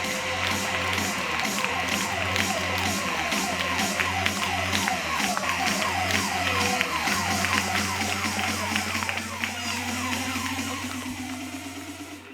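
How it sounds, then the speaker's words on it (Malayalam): A meeting audience cheers and claps for the year's lucky family, a steady crowd of applause with shouts and whoops lasting throughout, fading slightly at the end. "നമുക്ക് നല്ലൊരു കൈയടി കൊടുക്കാം"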